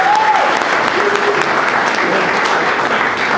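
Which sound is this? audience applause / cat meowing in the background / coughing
audience applause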